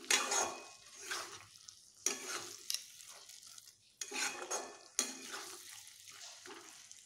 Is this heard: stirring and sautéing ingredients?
yes